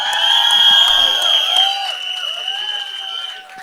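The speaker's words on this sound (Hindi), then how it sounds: "जोरदार तालियां उनके लिए।" An audience cheers and applauds for Paresh Rawal at a film trailer launch, with loud crowd whoops and sustained high-pitched shouts over clapping that taper off gradually.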